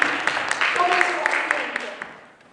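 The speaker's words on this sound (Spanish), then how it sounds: "Dele palmas al Señor." Congregation clapping during a Spanish-language church service, a steady wash of hand claps with a few sharper accents, tapering off toward the end while a voice is heard faintly beneath.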